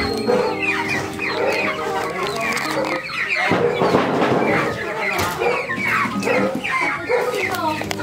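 Chickens cluck repeatedly nearby, with overlapping calls and scattered squawks, a busy, continuous flock sound.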